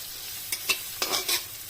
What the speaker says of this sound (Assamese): প্ৰায় ভজা হৈ গৈছে,